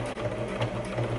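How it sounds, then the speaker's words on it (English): Sewing machine stitching fabric for a clutch bag, a brief, close, steady mechanical whirr with a rapid needle rhythm and no voices. "I'm just gonna go ahead and sew all the way down."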